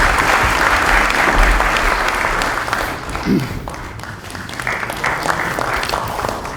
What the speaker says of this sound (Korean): 힘찬 박수로 맞이해 주시면 감사하겠습니다.